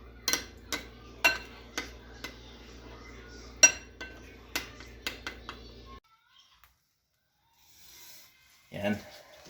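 A spoon stirs a chicken inasal marinade until it dissolves, with repeated clinks of metal against a bowl, sharp and close. The stirring stops, a short near-silence follows, and then a brief spoken voice.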